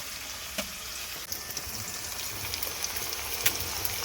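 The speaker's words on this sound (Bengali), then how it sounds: "এতে পেঁয়াজগুলো একটু তাড়াতাড়ি ফ্রাই হয়ে যায়।" Onions fry in a pan in a village kitchen while cooking chicken, a steady close hiss with a few faint clicks and stirring sounds throughout, no talking.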